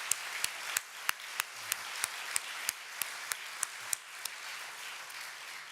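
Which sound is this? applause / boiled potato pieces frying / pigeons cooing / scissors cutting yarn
applause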